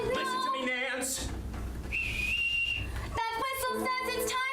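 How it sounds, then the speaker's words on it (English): A shrill whistle blows one steady, sustained note for about a second, standing out over a tense orchestral score that swells before and after it. "That whistle says it's time to go."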